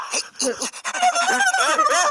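Bird calls indoors in a room, a series of squawking, honking chirps that start in short bursts and then run together into a busier, continuous stretch of calling, loud and close.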